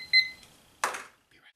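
A kitchen timer beeps in a short high double tone at the start, used while baking a pumpkin pie crust, followed by a brief burst of other kitchen noise.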